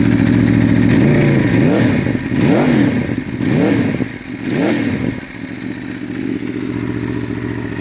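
A 2019 Aprilia Tuono V4 Factory motorcycle's V4 engine idles loudly nearby, with about four quick throttle blips rising and falling in pitch before it settles back to a steady idle.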